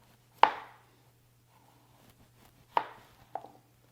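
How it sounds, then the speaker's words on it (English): A knife slices thin pieces of gold beet against a cutting board, with three distinct sharp cuts separated by quiet pauses and a low steady hum underneath, close and clear. "we'll slice one more piece of the gold beet really thin."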